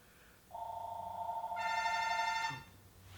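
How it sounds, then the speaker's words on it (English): A telephone in a music shop rings with a steady electronic tone that swells into a brighter, richer ring before cutting off, close and clear with no talking. "Phone. I better answer that because we're technically open right now."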